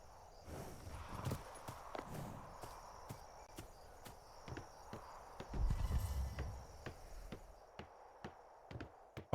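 Horse hooves in a video game clip-clop at an unhurried walking pace, sharp regular knocks over a quiet background, with a soft rumble midway.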